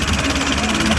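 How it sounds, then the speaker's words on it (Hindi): Escorts two-cylinder 35 horsepower tractor engine running steadily in second gear, a loud, continuous low throb with a rough, pulsing vibration filling the whole second. "2 सिलेंडर 35 हॉर्स पावर की कैटेगरी का ट्रैक्टर है।"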